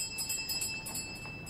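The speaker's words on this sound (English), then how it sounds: "I've rung the bell twice." A doorbell rings in a Sherlock Holmes radio drama, a faint, steady metallic trill that pulses rapidly for a second or so.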